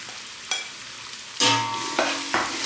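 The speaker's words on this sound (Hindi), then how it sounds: "जैसे भूनती हूँ" Beef mince keema with ginger and garlic being stir-fried in a pan: a steady sizzle with scraping stirs and sharper bursts of frying as the meat is turned, close and moderately loud, with no talk.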